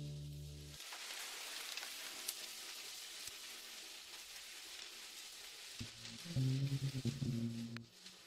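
Heavy rain falls in a steady, dense hiss during a stormy night by a stopped car, with a few deeper thuds and a low rumble briefly rising near the end.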